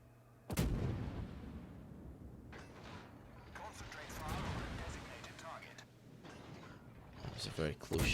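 A single close artillery shot in a war video game booms out abruptly and loudly, followed by rumbling battle noise, later blasts and someone talking throughout.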